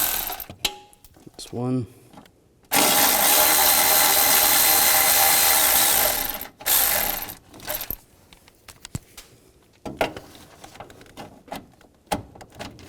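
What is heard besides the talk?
ratchet with 10mm socket removing battery tray bolts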